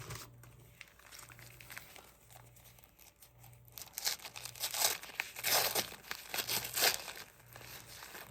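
Crinkly plastic packaging is opened by hand, starting as quiet intermittent rustling, then growing into louder, denser crinkling and tearing bursts close by, with a faint steady low hum underneath and no talk.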